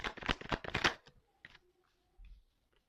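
Tarot cards gathered and shuffled by hand, a quick run of crisp riffling flicks up close, followed by a few softer scattered shuffles and light taps before quiet.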